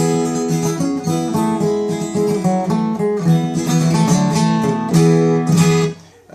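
Plucked guitar notes ring out one after another in a flowing arpeggio pattern, bright and close, with no voices.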